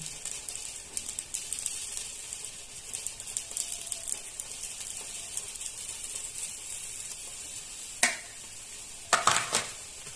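Fried onions dropped into a hot pan while making a quick mughlai, a steady soft sizzle running throughout, with a couple of sharper scraping clatters near the end.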